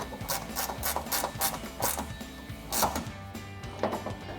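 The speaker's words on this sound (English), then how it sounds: "I'm gonna be taking this angled ratcheting wrench to tighten that the rest of the way down" An angled ratcheting wrench tightens a bolt on a 2019-2023 RAM 1500 headlight install, giving a rapid run of close metallic ratchet clicks in even strokes, then slowing toward the end.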